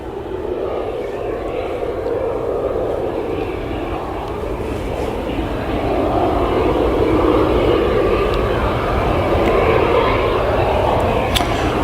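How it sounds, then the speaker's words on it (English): A KLM Embraer E190 jet airliner rumbles at Leeds Bradford Airport, a steady broad engine roar that grows slightly louder midway, with faint voices in the background. "Embraer E190 standard edition. And yeah, it's in the beautiful KLM colours."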